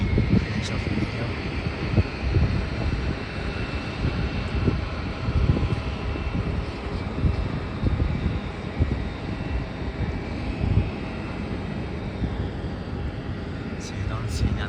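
A Scoot Airlines airliner passing at night, its broad low engine roar steady and sustained throughout with some wind buffeting on the microphone.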